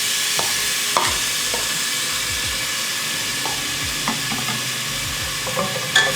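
Chopped onion frying in a pan while making kaleji masala, a dense continuous sizzle and hiss up close with scattered light scrapes and stirring taps, no talk.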